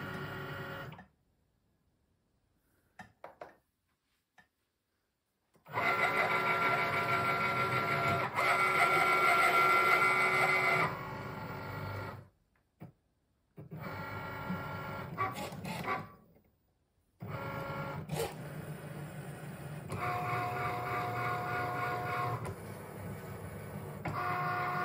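A Cricut cutting machine cuts a Christmas card insert in whirring, motorized bursts separated by silent pauses, with the carriage humming and buzzing as it moves back and forth.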